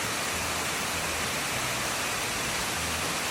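A steady, loud roar of falling water at Big Stone Coal Falls in the Dolly Sods area, broadband and continuous like a waterfall heard up close, with no voices.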